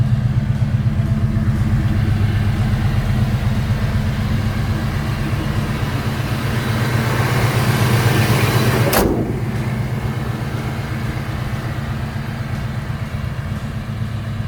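A 1990 GMC Jimmy 4x4 with a 5.7 V8 and catalytic converters idles steadily with a deep, even, muffled rumble, fairly loud and close, with a brief sharp click midway.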